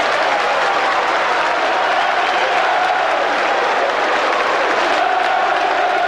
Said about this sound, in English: And congratulations all round for Brian Horn, from players and crowd.